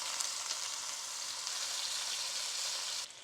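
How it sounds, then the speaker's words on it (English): Rice toasting in hot oil for Kerala fish biryani gives a steady, close, bright sizzle and crackle for about three seconds, then drops off sharply at the end. "Now we're going to toast the rice"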